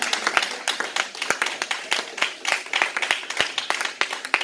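A church congregation at a worship service claps in a fast, irregular burst of many hands, loud and close, with a few voices mixed in.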